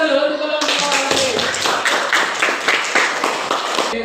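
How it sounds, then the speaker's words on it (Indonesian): Group of students claps for the Al-Alim group in a classroom, a close, fairly loud burst of hand clapping with rhythmic, sharp claps sustained for several seconds. "Kasih tepuk tangan dulu untuk kelompok Al-Alim."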